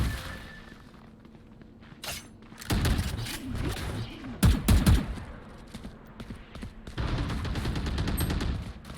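Pistol gunfire in the video game Valorant, a scatter of sharp shots with a heavier double burst in the middle, loud and close, over a constant game background.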